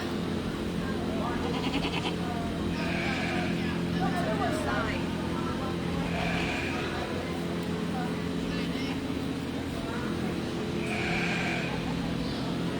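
Goats at a fair goat show bleat in scattered short calls from some distance, heard over the steady hum of a busy livestock barn while people talk nearby.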